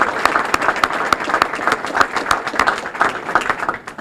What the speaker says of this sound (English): we should give all three of our soloists a round of applause